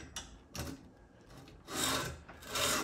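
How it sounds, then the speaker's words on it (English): A lawn mower blade held in a sharpening jig scrapes against a 120-grit flap disc on a 4.5-inch angle grinder, giving rough raspy bursts of grinding that swell and fade several times, the loudest passes near the end. "You can kind of see where it's scraping."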